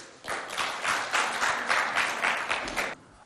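An audience at a school show claps enthusiastically in a short burst of applause that swells quickly, stays dense for a few seconds and then stops abruptly.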